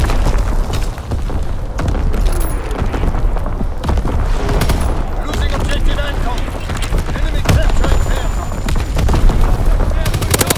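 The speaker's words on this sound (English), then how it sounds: "Incoming enemy artillery!" Incoming enemy artillery in Call of Duty: WWII, with heavy booms and explosions mixed into constant machine-gun and rifle fire throughout a loud battlefield, with shouted voices in the din.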